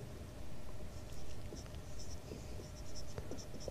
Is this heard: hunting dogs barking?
no